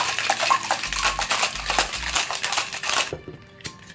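Cocktail shaker packed with ice rattled hard for an amaretto sour, a dense rapid clatter of cubes against the tin for about three seconds, then it stops abruptly into near silence.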